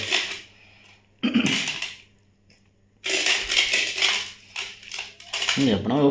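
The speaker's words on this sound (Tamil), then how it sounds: "பாத்திரம் எடுத்துகிட்டு வரவா" Cooking pots and vessels are picked up and carried, giving a couple of loud, close clattering bursts of metal knocking against metal between quieter pauses, with a voice briefly audible near the end.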